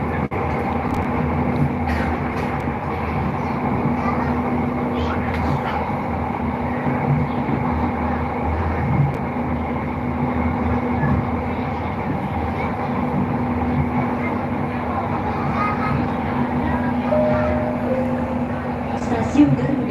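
Garuda Depot train station: a steady rumble of rail traffic and a low droning hum fill the space, with voices talking throughout and a brief higher tone near the end.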